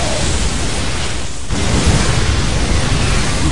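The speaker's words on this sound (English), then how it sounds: "Big explosions." Big explosions from banelings and hellions clashing in a StarCraft II match, heard as a loud, dense roar of broadband noise that dips briefly, then surges back and holds steady with no talk over it.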